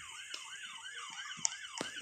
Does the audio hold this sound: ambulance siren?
yes